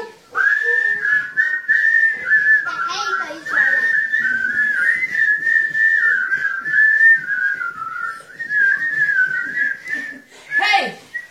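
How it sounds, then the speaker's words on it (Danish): Several people whistle a birthday tune together for a boy's fifth birthday, a continuous bright melody carried close and loud, with brief breaks and a short burst of voices near the end. "Hør nu her, hvordan vi alle fløjtevinder."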